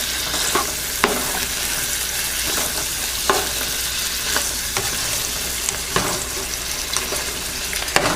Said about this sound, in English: you just want to mix the onion and the herbs all around so that you get all of the flavor